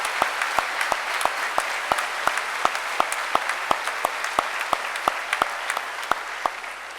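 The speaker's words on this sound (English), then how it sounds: "Let's give them a round of applause." Applause at a high school graduation ceremony as seniors entering the military stand to be recognized; steady crowd clapping with a sharp, regular hand clap close to the recorder repeating about three times a second throughout.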